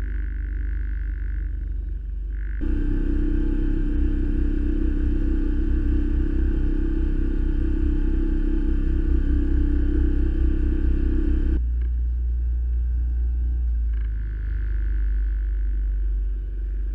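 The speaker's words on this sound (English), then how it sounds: "Now we just need to put the engine in gear and go home." A shrimper sailboat's inboard engine is put in gear on a mooring approach in Torbay, its steady low rumble growing louder and fuller for several seconds before dropping back to a quieter idle.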